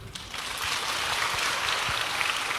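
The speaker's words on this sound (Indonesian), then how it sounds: "Tepuk tangan dulu." An audience at an Islamic religious talk breaks into applause, a brisk patter of many hands that swells after a moment and continues evenly throughout.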